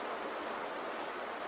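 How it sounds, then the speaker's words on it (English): A steady rain shower beats down on a campus with rain running off tin roofing, a dense even hiss of falling water, constant and moderately loud with no voices. "a steady rain shower was beating down on the campus"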